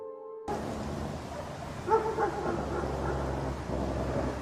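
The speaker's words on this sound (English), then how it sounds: "They bark persistently toward a turn" A group of street dogs barking persistently toward a turn in the road, heard as a few sharp barks and yips in the middle of a steady outdoor background. The barking carries at moderate distance and no one speaks.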